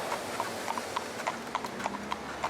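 Hooves of a piebald gypsy cob mare clip-clop at a steady, even trot while she is driven in traffic through town, a close run of regular sharp knocks with no voices.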